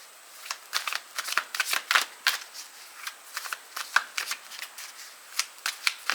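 Tarot cards are shuffled in close, crisp bursts, a quick run of riffling snaps and flicks with short pauses between them, alone and fairly quiet.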